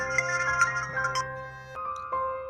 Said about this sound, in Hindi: किसका फोन आ गया बेटा?